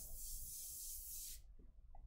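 A steady, airy airbrush hiss sprays paint for over a second, slightly messy from pressure, then cuts off abruptly, leaving faint handling noises.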